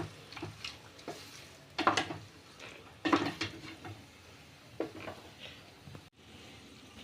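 Tomato chutney (thakkali thokku) cooking in a pan, with intermittent scraping and clinking of a utensil against the pan over a soft background sizzle, in irregular bursts with no talking.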